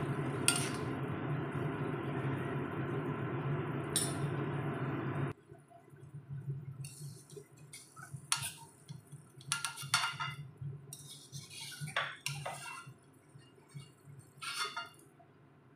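Langcha being turned and lifted from a frying pan with a spoon over a low gas flame, with a steady sizzle at first, then scattered metallic clinks and scrapes of the spoon against the pan.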